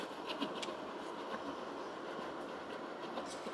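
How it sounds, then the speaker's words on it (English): Train passing at a distance on a quiet Sunday, a faint continuous rumble with soft rail clatter throughout, steady and unbroken, no voices. "Sorry, the train is going by."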